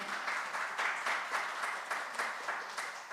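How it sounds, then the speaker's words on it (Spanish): An audience at an inaugural conference claps together in steady, moderately loud applause that holds for the whole stretch with no talking over it. "pido un pequeño aplauso para ella"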